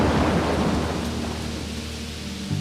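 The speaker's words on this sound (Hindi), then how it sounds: "तभी शाम को बहुत तेज बारिश होने लगी, बिजली चमकने लगी" Heavy rain pours in a dense, steady roar while a low thunder rumble rolls underneath. The sound stays loud and continuous throughout.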